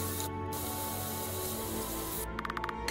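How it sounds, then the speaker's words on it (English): In a video game, a purple spray ball hisses in one long steady burst held up to a character's face, ending in a few quick puffs as the spray sputters. "you hold the spray ball right up to his face"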